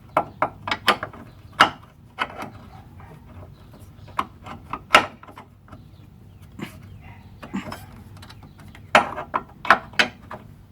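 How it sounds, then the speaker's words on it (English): Ratcheting clicks of a torque wrench tightening a rear trailing arm bolt to 60 foot-pounds on a 2004–2008 Pontiac Grand Prix, heard as irregular bursts of sharp mechanical clicks, fairly close, with no talking. "torque wrench would be my absolutely recommended. 60 foot-pounds is where you're going."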